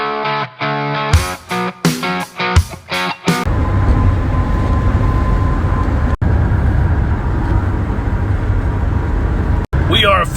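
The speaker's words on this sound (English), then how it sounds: "We are officially on the road." A car on the road at the start of a long road trip, giving a loud steady wind-and-tire roar that runs on evenly after a few rhythmic musical hits at the start, no talking.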